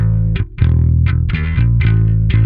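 Heavily saturated guitar signal run through the Neural DSP Parallax X plugin, several thick distorted chords and notes played in quick succession, loud and close with brief gaps between strikes.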